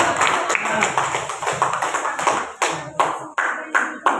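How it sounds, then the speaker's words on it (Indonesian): A classroom of students clapping together, brisk rhythmic hand claps that start as a busy patter and then slow to a few loud, evenly spaced unison claps near the end. "Oke, bagus, tepuk tangan dulu"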